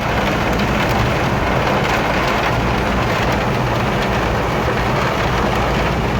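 Heavy rain pours down at night in Swat, a loud, steady, dense hiss of drops on surfaces that continues without a break.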